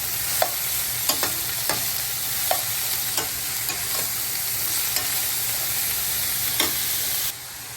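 Seasoned cauliflower rice stirred in a pan with avocado oil, a steady soft sizzle broken by repeated light scraping clicks of the utensil, close and fairly quiet with no talk.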